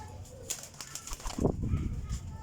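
Pigeons flap their wings in short bursts at a dealer showing Taddy pairs, a few quick flutters near and fairly soft, with faint background sounds.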